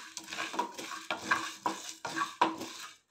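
Cumin seeds and black pepper toast lightly in a pan, a faint sizzle broken by several scraping stirs and small metal clinks at an uneven rhythm, with no one talking.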